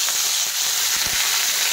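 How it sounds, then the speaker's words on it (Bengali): Boiled cauliflower goes into hot mustard oil in a wok and sets off a loud, dense, continuous sizzle, close up and with no voices. "তেল গরম হয়ে গেছে, এখন আমি সেদ্ধ করা ফুলকপিগুলো দিয়ে দিচ্ছি।"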